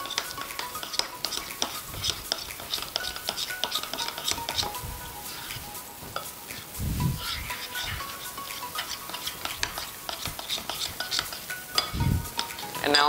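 A spoon stirs cookie dough with shortening in a bowl, a steady scraping and patting of utensil against the bowl with occasional thicker thuds, close and continuous.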